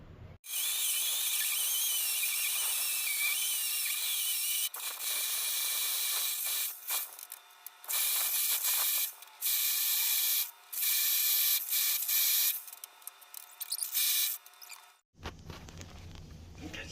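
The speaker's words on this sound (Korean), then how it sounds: "여기를 타공하면 내가 원하는 위치에 구멍이 뚫려야 되는데 모르겠네요 일단 뚫어 보겠습니다" A core drill boring a hole through a 30 cm thick exterior wall of an old house, a loud, harsh grinding whine in long bursts broken by short pauses, stopping near the end, with no talking.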